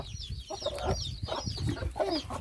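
Hens cluck close by among chicks in village alleys, a busy run of short, overlapping clucks and soft calls.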